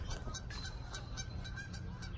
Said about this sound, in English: The geese are absolutely going crazy over here.